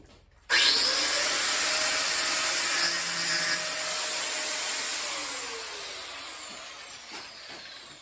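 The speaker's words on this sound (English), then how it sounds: "Then I'm going to cut it with this with a cutting disc" Angle grinder with a cutting disc slicing through metal on a rat rod build, starting abruptly and then holding a loud, steady, harsh whine for several seconds that slowly eases off toward the end.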